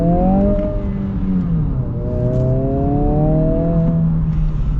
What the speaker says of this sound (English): We're going to get our full-blown acceleration here.